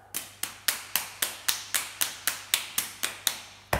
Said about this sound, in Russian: Я все тело так хлопаю